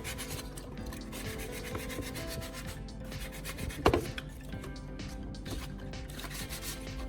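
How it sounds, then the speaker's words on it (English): Close, steady rhythmic rasping of wet sandpaper rubbed back and forth on plastic, with a brief knock midway and no talking. "I'll periodically dip the sandpaper in water as I continue sanding."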